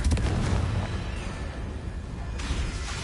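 An explosive Confringo spell goes off in Hogwarts Legacy, a loud broadband blast at the start with rumbling low-end debris, fading and then swelling again with a second burst near the end.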